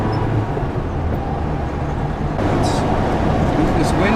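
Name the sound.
1972 Peugeot 204 engine working hard at 80 km/h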